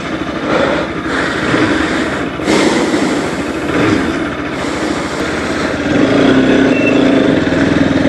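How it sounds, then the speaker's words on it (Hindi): A motorcycle engine idles just after a cold start, a steady, close, loud rumbling hum that continues unbroken for about eight seconds. The tone shifts slightly and grows a little fuller toward the end. "तो वैसे हमने अपनी बाइक को भी स्टार्ट कर दिया है, कोल्ड स्टार्ट।"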